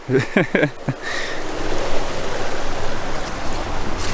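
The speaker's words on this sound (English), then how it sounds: "Running water." Running water from a river stream rushes in a steady, close, broadband wash that fills the scene after a brief opening bit of sound.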